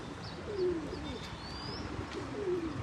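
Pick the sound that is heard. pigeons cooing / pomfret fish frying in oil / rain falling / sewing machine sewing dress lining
pigeons cooing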